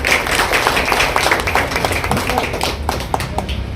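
An audience at a Women's Day function held by a press association and police station applauds its women police staff, a dense run of close clapping that stays level and continuous from start to finish.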